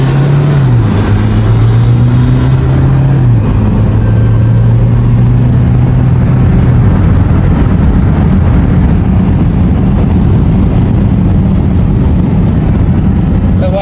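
Two SUVs, a Toyota Fortuner and a Mahindra Scorpio, drag racing: a loud, steady engine roar with a rising then held whine, close and continuous for the whole stretch, with faint voices.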